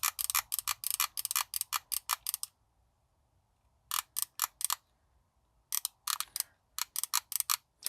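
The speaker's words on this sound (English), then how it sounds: "It has a little ratcheting action." Ratcheting solder feed on a NEWACALOX soldering gun from a hot air rework station kit, giving fast bursts of sharp mechanical clicks in rhythmic runs, with a quiet pause between groups, close and clear.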